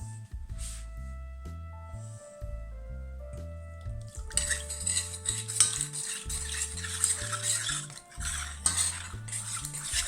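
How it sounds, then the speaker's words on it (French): A utensil scrapes and clinks against a saucepan while cornstarch is stirred into cold milk for béchamel. The stirring strokes come in a steady rhythm, close and clear, with metallic ringing tones. "dans une casserole, je vais délayer la maïzena dans du lait froid."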